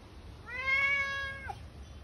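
A single cat meow, drawn out and rising then falling, about a second long and fairly close, standing alone over a faint background hiss.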